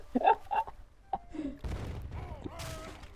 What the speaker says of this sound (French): Oui, le monitor, c'est un bateau avec un mortier.